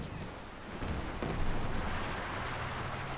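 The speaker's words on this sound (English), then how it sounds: "Mortar throwing down there" Dense mortar and gunfire rumble in a Company of Heroes 2 battle, a steady broadband roar of distant explosions and shots with a heavier burst midway, no voices.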